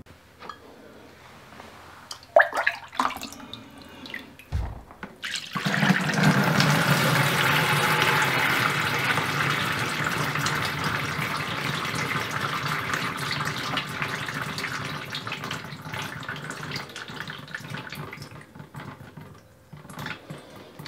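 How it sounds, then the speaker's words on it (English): Strawberry wine juice is poured through a muslin-lined colander, giving a steady, sustained splashing gush of liquid that begins after a few brief knocks and runs on evenly before trailing off at the end. "And then that is ready to bale the juice the other way through the muslin to get rid of a lot of"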